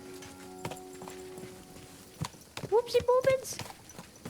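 Horse hooves clopping on steep ground in Kingdom Come Deliverance II, scattered uneven thuds close by, mixed with game sounds while someone talks over them.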